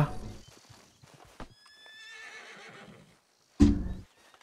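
A horse in the video game Red Dead Redemption 2 trots up with scattered hoof thuds, then gives a long, high whinny, followed after a short pause by one loud snort or stamp.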